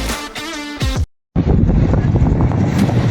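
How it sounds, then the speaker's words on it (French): Wind buffets an outdoor microphone in a loud, steady rumble for about two seconds after a brief cut to silence, with tonal sound beforehand, on a breezy day beside a Mini-Diavel motorcycle. "Il y a quand même pas mal de vent pour nous faire la vidéo"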